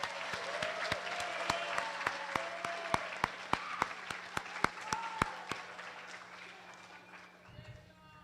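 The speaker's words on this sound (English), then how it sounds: "One more round of applause for Dr." Audience applause at a high school student awards day program, sharp claps in a quick, even rhythm that thin out and fade, with a voice speaking beneath and after.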